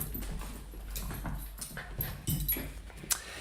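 A puppy whimpers softly in a quiet indoor room, a few faint whines and small yips in a short sequence, close to the microphone with no talking.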